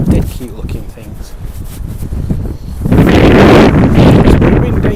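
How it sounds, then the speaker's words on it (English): Strong wind buffets the microphone at the Cadwell Park racing circuit, a rough, roaring rumble that surges louder midway and stays heavy, with a person talking intermittently beneath it. "It's pretty windy."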